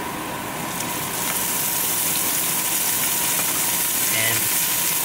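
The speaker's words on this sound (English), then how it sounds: "Now we're gonna throw some of this olive oil in." Olive oil hits a hot pan with garlic, setting off a steady, close sizzle and hiss that holds for several seconds, with a brief stir near the end.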